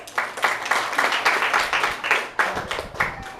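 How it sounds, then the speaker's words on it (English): A debate audience claps steadily for a debater being introduced, a dense round of applause of many hands lasting a few seconds, close and fairly loud with no talk over it. "A round of applause for our first speaker, Ina Marie Furol."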